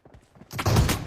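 Shotgun gunfire in a video game, a burst of loud blasts rising after a short quieter rattle, all within about a second.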